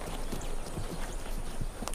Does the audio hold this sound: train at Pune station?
no